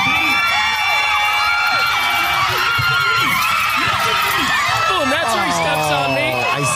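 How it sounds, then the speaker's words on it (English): Rodeo crowd cheering during Matthew Blades' bull ride, a loud, dense roar of whoops, shouts and swooping yells that stays intense and continuous throughout. "this is good audio because you can literally hear the crowd"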